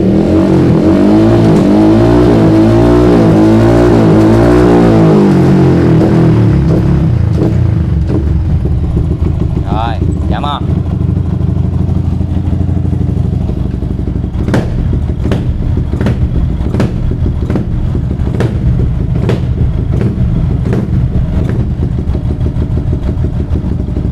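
Yamaha R15 V3 motorcycle with a modified racing exhaust, revved while standing still: loud, close engine roar that climbs and falls, then a run of sharp, evenly spaced revs and pops near the end, with no talking.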